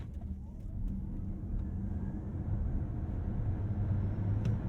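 Ford Mustang Mach-E GT electric SUV under hard acceleration from a standstill, a steady broadband road and drivetrain rush with rising whine, heard from inside the cabin at moderate, constant loudness.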